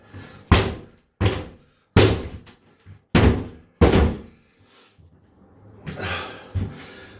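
A cracked bathroom door in a house is kicked from the inside, five heavy, booming thuds about a second apart, each ringing out briefly. Softer knocks and heavy breathing follow, then a scrape and rattle near the end.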